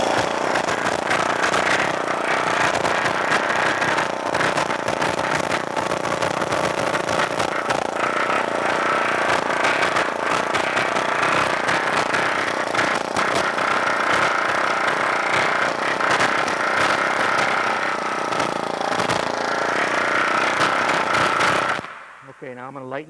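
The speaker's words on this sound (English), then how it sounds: "I'm going to change the pressure on my hammer here so that I can do a little bit finer planishing" A pneumatic planishing hammer on heavy pressure pounds sheet metal with a loud, rapid, continuous hammering that runs without pause for about twenty seconds, then cuts off abruptly.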